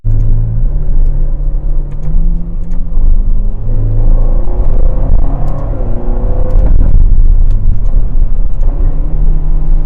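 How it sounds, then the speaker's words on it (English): A Ferrari Portofino V8 rumbles loudly and close, its engine tone rising and falling through revs with shifts in pitch as it pulls and changes gear, heard steadily throughout. "I love the downshifts. They're nice and crisp, and the upshifts give you a nice pop and snap on the upshift"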